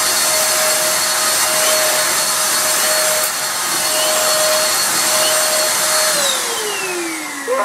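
A Numatic vacuum cleaner runs at full suction while cleaning up, giving a loud, steady close roar with a constant motor whine. Near the end the pitch slides downward as the motor starts to wind down. Nobody speaks.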